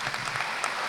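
Audience applause at a graduation ceremony, a brief burst of dense, even clapping from a crowd filling the hall.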